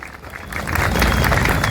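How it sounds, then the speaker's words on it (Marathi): A crowd applauds to welcome guests at a public ceremony at a statue memorial, with loud, dense clapping that swells after a brief quieter start and holds steady. "त्यांनी त्यांच्या ह्या ठिकाणी जोरदार टाळ्या वाजवून त्यांचं स्वागत करावं"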